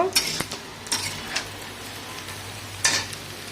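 Eggplant frying in a pan with salt and turmeric makes a soft, steady sizzle, broken by a few sharp clinks and scrapes of a utensil stirring.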